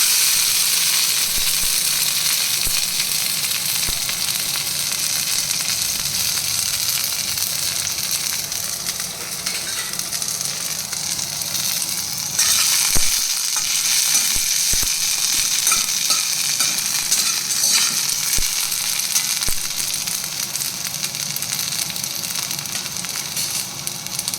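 Chopped garlic and spring onion fry in olive oil for a tomato onion soup, a steady close hiss of sizzling that carries on throughout, with a few scattered clicks and scrapes of a utensil against the pan.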